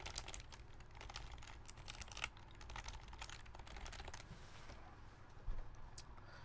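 Steady keyboard typing with a repaired, no-longer-rattly spacebar, dense rapid keystrokes at close range with a few heavier thumps, no voices.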